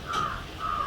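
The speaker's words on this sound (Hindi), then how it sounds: "बाहर कौवा बोल रहा होता है" A crow caws twice outside a house, two harsh, drawn-out calls separated by a short pause, moderately close and clear with no other sounds.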